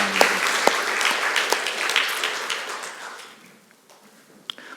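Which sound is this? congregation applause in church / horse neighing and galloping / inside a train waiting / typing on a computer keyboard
congregation applause in church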